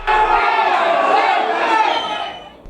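Home crowd at a semi-professional Isthmian League football match loudly protesting a referee's decision, a near, sustained roar of shouting voices that fades slightly at the end.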